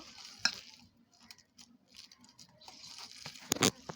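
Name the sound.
mixing mashed potato by hand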